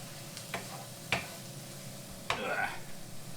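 Onions frying in a pan, stirred with a utensil: a soft sizzle with a few distinct scrapes and taps, close and fairly quiet, and some talking in the background.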